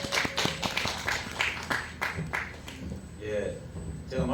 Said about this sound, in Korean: 우리를 대신해서 말씀해 주신 김영순 누님께 큰 박수 부탁드리겠습니다.